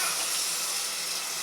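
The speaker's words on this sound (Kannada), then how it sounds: "ಈಗ 1 ಕಪ್ ಅಷ್ಟು ನೀರನ್ನ ನಾವು ಹಾಕೋತಾ ಇದ್ದೀವಿ ಕೊನೆಗೆ" A cup of water being poured into a cooking pan of kadle hittu palya with greens, a steady close hissing splash that runs evenly through the short clip, with no talk.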